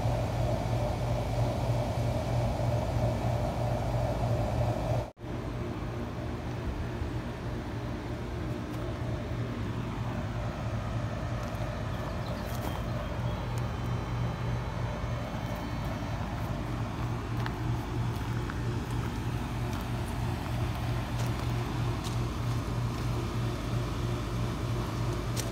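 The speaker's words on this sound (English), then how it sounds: "So loud, I'm right next to the air conditioner" An air conditioner runs loudly right nearby, a constant heavy drone with a steady low hum and one sharp click early on.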